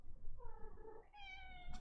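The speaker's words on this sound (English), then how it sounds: "coming in and meowing at me" A cat meows indoors in a drawn-out, rising call that ends with a short second cry, close and fairly loud over faint room noise.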